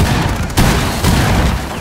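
Grenade explosions and gunfire in Rainbow Six Siege, a dense continuous roar of loud blasts and shots with two sharper bursts standing out, close and heavy.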